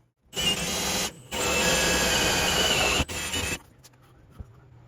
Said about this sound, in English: get this taped up and drill that one out